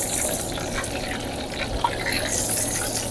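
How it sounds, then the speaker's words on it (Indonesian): Chicken pieces frying in hot oil in a home kitchen, giving a steady, loud sizzle and hiss throughout with a brief pop near the middle, no talk over it. "Kita gorengkan dia guys."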